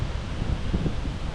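Wind buffets the microphone while cycling along a canal and gravel route in northern Spain, a steady close rumble throughout with no talk.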